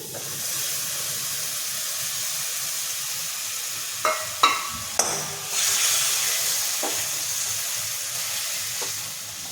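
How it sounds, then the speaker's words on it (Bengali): Mutton pieces hit a hot kadai coated with sour yogurt, setting off a steady loud sizzle and hiss of frying, punctuated by a few sharp clanks of a spatula stirring, with no one speaking. "এবার মটনটা দিয়ে দিচ্ছি"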